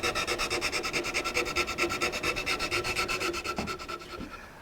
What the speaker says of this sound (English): so work your way around and sand it to a finish.